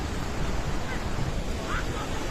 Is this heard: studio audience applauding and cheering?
no